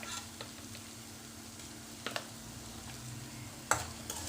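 Cabbage sautés in a pan with cumin powder, black masala and salt, a low, steady sizzle over a faint hum, punctuated by a few sharp spatula scrapes.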